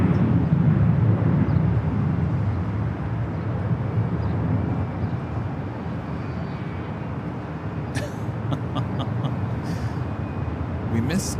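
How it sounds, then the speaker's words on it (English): Southwest Boeing 737 MAX 8 departing LAX for Las Vegas: a steady, broad jet roar that holds for the whole stretch, with sharp clicks and ticks near the end and a voice talking over it. "2578 taking off to Las Vegas on the MAX 8"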